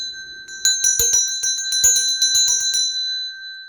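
A bright metallic notification bell rings in a quick run of rapid strikes, with a steady tone sounding underneath before and after, clean and close with no voices.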